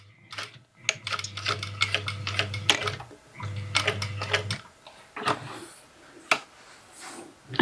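A sewing machine stitches a skirt seam at a 1 cm allowance in two steady runs. Each run is a whirring motor hum with rapid ticking, split by a short pause, and the stitching ends in scattered clicks and handling taps.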